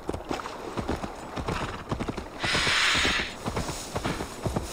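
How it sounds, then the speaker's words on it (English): A horse gallops in the Assassin's Creed Valhalla video game, with quick, rhythmic hoof clops, then a brief rushing splash as it enters water, and galloping resumes. "Swim, horsey!"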